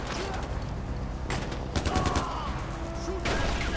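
Gunfire from the video game Far Cry 4, a dense fusillade of shots and bursts in a war zone battle, with speech-like voices mixed in over the steady noise.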